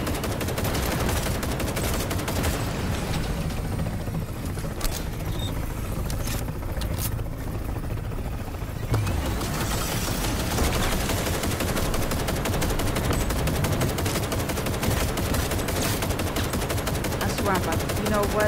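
Rapid gunfire in the video game Cyberpunk 2077 Phantom Liberty, with dense, continuous bursts of shots and a scraping, mechanical background, loud and steady throughout, with occasional faint talk mixed in.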